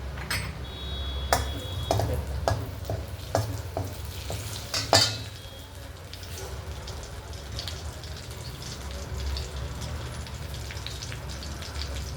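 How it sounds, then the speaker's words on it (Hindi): Sharp crackles and pops from tempering spices and chillies hitting hot oil for kadhi, a few loud bursts early on settling into a steady, close sizzle. "ये तड़का हमारा लग गया।"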